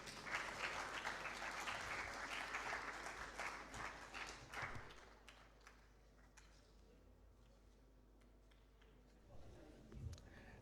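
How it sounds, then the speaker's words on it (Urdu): Audience applause at a panel discussion, a dense patter of clapping that swells for about five seconds, then fades to faint room noise with a few scattered claps near the end. "تالیاں نہیں رکنی چاہیے"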